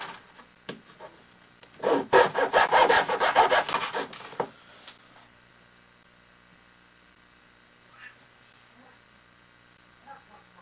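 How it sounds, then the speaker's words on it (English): A small handsaw cuts little wooden sticks for a 28mm-scale miniature post-and-beam barn in a quick burst of rhythmic rasping strokes lasting about three seconds, followed by quiet with a few faint knocks. "So now I need to cut little sticks for underneath there."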